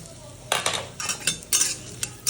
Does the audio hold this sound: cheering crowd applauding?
no